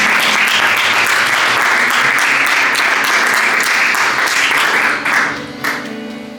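Church congregation breaks into sustained, loud applause filling the room, dense clapping holding steady before thinning slightly near the end.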